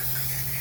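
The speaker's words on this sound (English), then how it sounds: "And I'll generally spray both sides of those." Deep Creep penetrating oil sprays onto chainsaw chains in a single continuous aerosol hiss, close and steady, with a faint low hum underneath.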